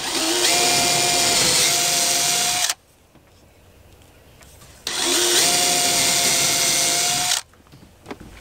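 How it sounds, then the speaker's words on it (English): Power drill boring a hole through a storm door during installation in a mobile home, two loud whirring bursts of about three seconds each, separated by a quiet pause, heard close up. "I'm also only drilling through halfway, so I can go on the other side of the door"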